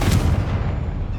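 Confringo spell blast in Hogwarts Legacy: a single loud, booming burst that rumbles and fades over about a second, alone with no talk.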